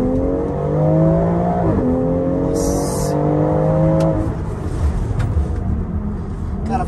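A BMW X3 M Competition SUV with a six-cylinder engine accelerating hard, a loud rising engine note climbing through gear changes over the first four seconds, then easing off into road and engine rumble.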